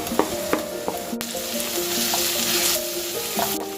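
Onion and ginger crackle and sizzle in a hot pan for biryani, a dense hiss with a few sharp clicks of the spoon, loud and near, no speech.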